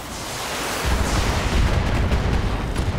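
An AC-20 autocannon fires in the BattleTech video game, a loud heavy boom that kicks in about a second in and rumbles on with a thick low roar for the rest of the moment.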